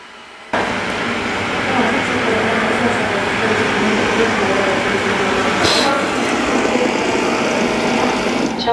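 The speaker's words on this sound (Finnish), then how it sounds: "Nyt se lähtee sinne omaan lattausasemaan." A Xiaomi Roborock robot vacuum, heading back to its charging dock, kicks in suddenly with a loud, continuous motor whir that holds steady nearby, with one brief brighter whoosh partway through.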